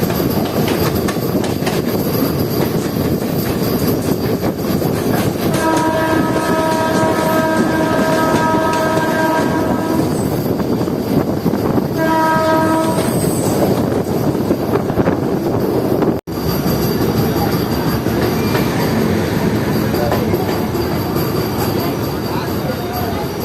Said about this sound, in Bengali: কাঞ্চনজঙ্ঘা এক্সপ্রেস তার নির্ধারিত সময়ের থেকে বাইশ ঘন্টা চুয়াল্লিশ মিনিট রেডি চলছে